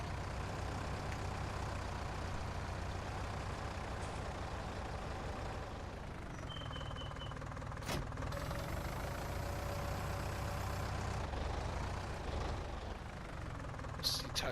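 Tractor engine in the farming game Farming Simulator 19, a steady low diesel drone running throughout, with brief clanks and a short hiss partway through, fairly close and constant.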